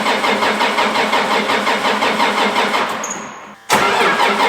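A tractor engine cranks with a rapid, rhythmic starter churn, cuts out for a moment, then catches and roars to life, loud and close, with no talk over it.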